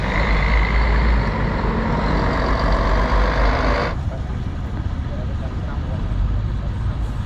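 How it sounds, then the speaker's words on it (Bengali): Red government metro buses pass through a busy crossing in front of the Basilica of Guadalupe complex in Mexico City, a loud broad roar of heavy traffic that drops away midway to a lower street hum. "সেই লাল রঙের সরকারি মেট্রো বাসগুলো সমানে যাতায়াত করছে"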